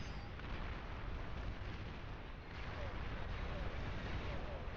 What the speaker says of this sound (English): Looked like artillery?